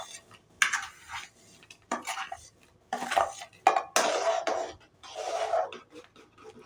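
Semolina for rava kesari is added bit by bit to a pan over low heat, and several bursts of metal spoon scraping and stirring against the pan sound close and alone, separated by short pauses.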